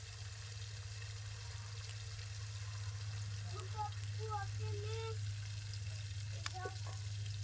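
Fish sizzles in a pan with a continuous low frying hiss that stays even throughout, alongside a few faint higher chirping tones in the background.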